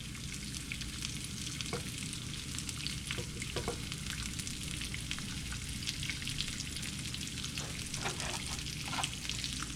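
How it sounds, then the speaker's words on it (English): Food crisps up in a pot of oil while cooking haluski, a dense, even sizzle that runs steadily throughout with small crackles and occasional stirring. "we're gonna get that until they start looking a little bit crispy"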